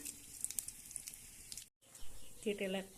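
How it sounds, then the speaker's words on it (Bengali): Whole spices, cardamom, cloves, garam masala and cumin seeds, sizzling as they hit hot oil, with faint crackles and pops, a brief silent gap, then a louder sizzling burst mixed with a voice talking. "তেলটা গরম হয়ে গেছে, দিয়ে দিচ্ছি এলাচ, লবঙ্গ, গরম মশলা, গোটা জিরে"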